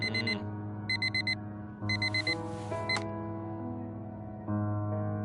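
Alarm clock ringing in the video game Fragments of Him: three bursts of bright electronic beeping, each a quick run of evenly spaced tones, over a steady low musical bed.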